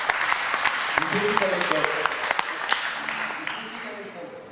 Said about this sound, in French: vous pouvez l'applaudir parce que c'est aussi un sacré cursus